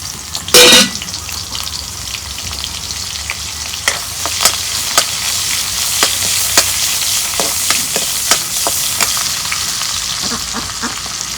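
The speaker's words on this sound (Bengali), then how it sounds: "তেল গরম হয়েছে, এখন দিয়ে দিব পেঁয়াজ কুচি।" Chopped onion hits hot oil in a pan for a Bengali small fish curry with bottle gourd. A sharp clatter comes first, then a loud, steady sizzle runs on with repeated scraping stirs and no talk.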